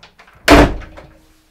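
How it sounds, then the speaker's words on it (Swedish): A door slams shut from outside, a single loud, close thud with a sharp attack that rings briefly and then fades, with faint room noise before and after. "smäller igen dörren från utsidan"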